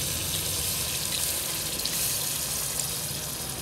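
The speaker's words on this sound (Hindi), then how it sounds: "तो मैं एक गिलास इसमें पानी डालूँगा," Water from a glass pours steadily into a pot of vegetable gravy for four, a continuous close rushing hiss mixed with sizzling, with no talking over it.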